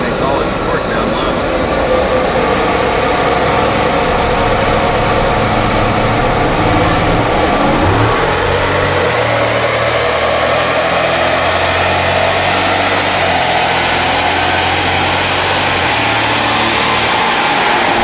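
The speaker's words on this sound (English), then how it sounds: "I'll bring it down to 1500 to start. I imagine this thing makes all its torque down low." A 2017 Chevy Silverado with the 6.2L V8, strapped to a dyno, drones loud and steady at low revs, its pitch sliding gradually upward with a shift partway through, over constant fan and room noise.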